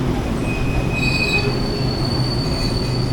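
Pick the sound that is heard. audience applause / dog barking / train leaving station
train leaving station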